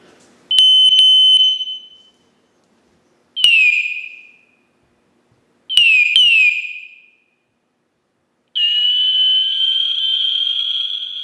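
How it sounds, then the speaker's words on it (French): A series of electronic beeps: three short tones with pauses between, then a longer sustained beep, each clear and fairly loud with no talking. "pour accéder et pour changer le bip, vous allumez le collier"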